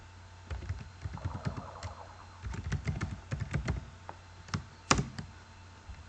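Java code being typed on a computer keyboard, with irregular bursts of clicky key presses, fairly close and moderately quiet, separated by short pauses and ending with a couple of sharper taps.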